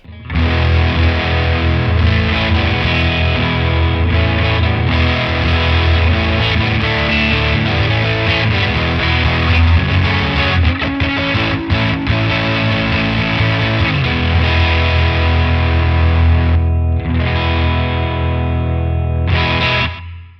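Heavily overdriven electric guitar, its gain boosted from 50 to 80, chugging loud and continuous for about twenty seconds, thick distorted chords ringing out, then cutting off with a few final hits.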